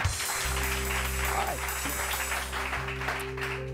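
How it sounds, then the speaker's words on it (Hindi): A studio audience on a morning TV show claps steadily in a dense, continuous patter, with a low electronic hum running beneath it. "बहुत सारी तालियां"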